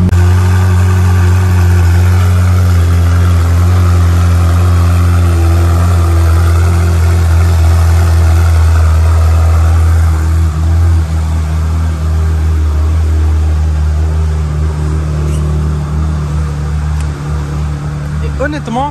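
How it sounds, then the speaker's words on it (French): The naturally aspirated V8 of a Ferrari 458 Mansory idles close by with a deep, steady rumble that holds throughout. There is a slight rise in pitch near the end. "Le son du V8 Atmo, incroyable."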